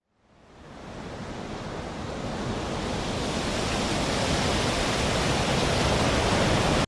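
Strong wind rises from silence into a steady, heavy rushing roar that builds and holds, loud and unbroken.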